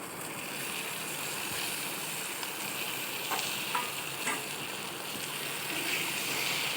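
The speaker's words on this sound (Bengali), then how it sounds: "তারপর ভালোভাবে নাড়াচাড়া করে কিছুক্ষণ ভাজব।" Singhi fish with eggplant, potato and other vegetables frying in a pan gives a steady, even sizzle, with a few soft scrapes as the pan is stirred.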